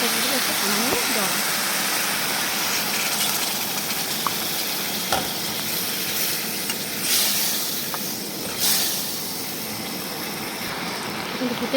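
Water poured into a pan of well-fried spice masala for mung and masoor lentil bora curry sets off a steady, loud broadband sizzle and hiss, with a few stirring scrapes breaking through the continuous frying noise.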